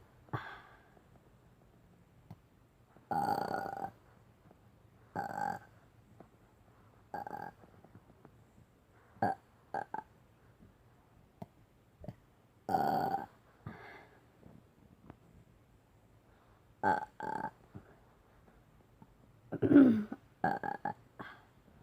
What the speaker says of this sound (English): I'm going to be burping on command.